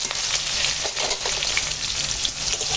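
Bitter gourd, pointed gourd and other vegetables coated in salt and turmeric fry together in hot oil, giving a loud, dense, continuous sizzle that hisses steadily throughout with no talking.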